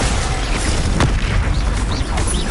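Spell explosions in the Hogwarts Legacy video game, a dense loud roaring blast with booming low rumble and one sharp crack, sustained throughout the clip.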